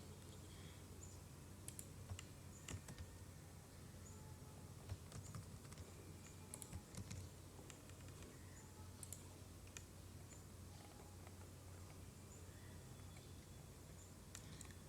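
Typing on a computer keyboard during PHP admin dashboard work, scattered faint key clicks and taps over a steady low hum, quiet and fairly close, with no talking.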